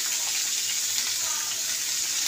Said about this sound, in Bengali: তো এবার এইটা একটু ভেজে দিতে হবে।